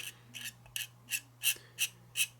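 Light rasping strokes of a scraper on a model railroad surface, about seven short, evenly spaced scrapes close up over a steady low hum, with no talk.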